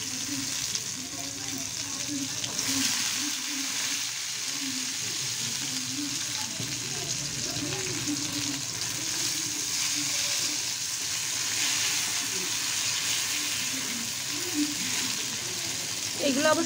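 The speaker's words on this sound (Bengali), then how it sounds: "কালো জিরা দিয়ে এবার পেঁয়াজ আর রসুন দিয়ে দিচ্ছি।" Onion and garlic frying in oil with black cumin, a steady close sizzle with faint stirring throughout, no talk.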